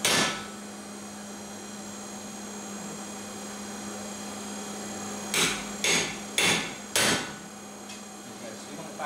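A hammer strikes a chisel four times in quick succession on hot steel while forging a toasting fork, each ringing blow loud and close over a steady mains hum.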